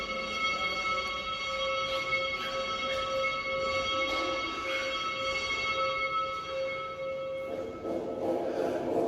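A church bell rings in Jerusalem at the site of the crucifixion, holding steady, sustained tones that carry through the whole stretch alone, with no talking.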